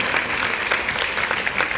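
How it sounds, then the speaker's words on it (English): A room of people at a county board of supervisors meeting applauds a young people's presentation, a steady dense wash of clapping that carries through the whole moment without a break. "I think we should give that presentation from these young people another round of applause"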